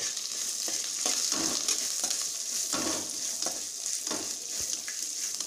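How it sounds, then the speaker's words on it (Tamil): Onion and curry leaves sautéing in a pan for chutney, a loud, steady sizzle with occasional stirring scrapes throughout. "கொஞ்சம் வதக்கிடுங்கங்க."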